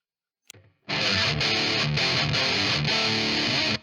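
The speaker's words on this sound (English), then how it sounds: "If we set the channel to heavier and the gain all the way up, we get the maximum amount of distortion" A heavily distorted electric guitar through an Empress Heavy Menace pedal on its heavier channel with gain at maximum chugs loud and saturated, sustained chords with a few brief gaps, after a short pick scrape at the start.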